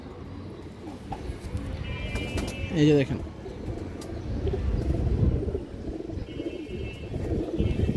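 Old-strain Gorra pigeons coo in low, repeated rolling calls close by, with a brief flutter and faint chirps, while someone talks over them.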